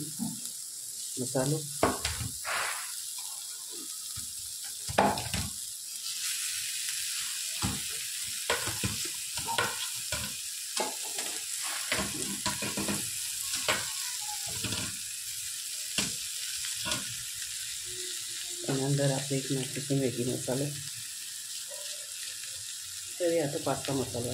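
Slightly softened potatoes go into a hot pan and fry with a close, continuous sizzle, broken by repeated stirring clatter and scrapes; a voice briefly murmurs now and then.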